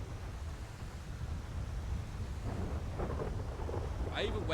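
A thunderstorm rolls on as a steady, deep rumble with a rain hiss, fairly loud and continuous, while a voice briefly surfaces near the end.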